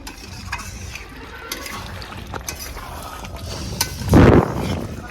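Mutton being slowly stir-fried (kosha) in a pan for a village-style goat curry with potatoes, with soft steady scraping and stirring under a low sizzle and a louder clattering stir near the end.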